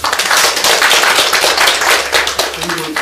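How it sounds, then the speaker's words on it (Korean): Dense crowd applause, steady and loud for about three seconds, with a few voices mixed into the clapping. "박수 한번 주십시오."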